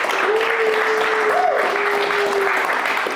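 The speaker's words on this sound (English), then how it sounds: "Wherever Kelton is, give him a round of applause too." Audience applause at a leadership talk, a dense steady clapping from a sizable crowd lasting about three seconds, with a brief voice-like tone heard over the clapping.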